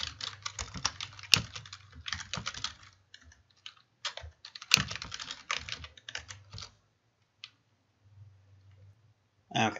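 Rapid tapping on a computer keyboard while entering an email address and password, quiet clustered keystrokes in uneven bursts with pauses and a couple of sharper clicks.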